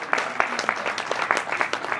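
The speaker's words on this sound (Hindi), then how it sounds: "जोरदार तालियों से" Dense applause from an audience at a Hindi poetry recital (kavi sammelan), steady crowd clapping with sharp individual claps popping out across the full two seconds, close and moderately loud.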